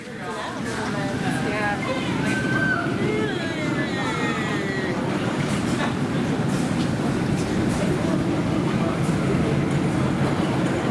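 A roller coaster train from 1987 at Bobbejaanland rumbles steadily along its track with continuous rolling and rattling noise, while people talk over it throughout.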